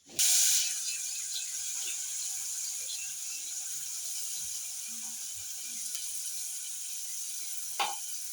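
Mustard seeds and cumin splutter in hot oil with a continuous hissing sizzle and fine crackling pops, close and steady throughout, with no talking.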